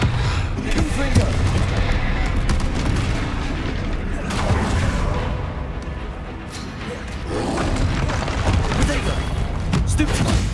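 Repeated booming spell blasts in a Hogwarts wizarding video game, heavy thuds and crackling bursts that come in clusters over roughly ten seconds, loud and close with a voice mixed in.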